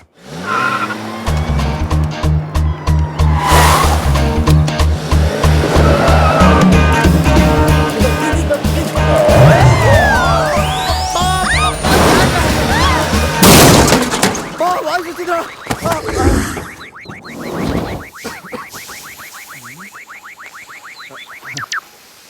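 A car crashes in a 3D action comedy scene, with a long loud stretch of impact, scraping and tire squeal as the bumper is knocked off and the bonnet lifts, followed by rattling debris and voices talking.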